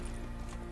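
Horse hooves clip-clop in a quick, even rhythm in The Witcher 3, heard close and fairly soft for a brief moment.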